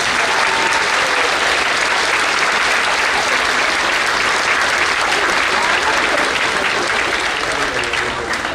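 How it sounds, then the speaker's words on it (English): Sustained applause from an audience at a school board meeting, a loud, even wash of clapping that lasts several seconds without a break. "And let's have a big round of applause for our"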